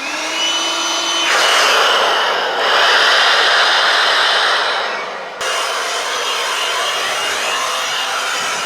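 A Milwaukee compact leaf blower blasts dust with a loud, steady airy roar and high whine that surges briefly, then drops and resumes at a slightly lower, even pitch.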